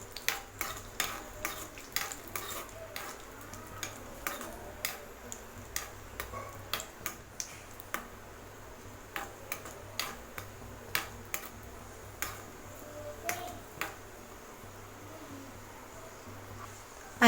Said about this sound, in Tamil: பாருங்கள், திராட்சை நல்லா இப்போ தான் விஷல் வருது.